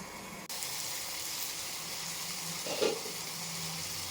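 Tomatoes frying in a pan produce a soft, steady hiss, faint and continuous, with one brief scrape of stirring just before the end and no voices.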